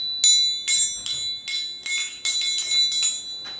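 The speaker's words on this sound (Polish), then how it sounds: "Trzeba trzymać się za sznureczek i tak uderzać." A metal triangle struck about ten times in quick succession, each strike ringing brightly and overlapping the last.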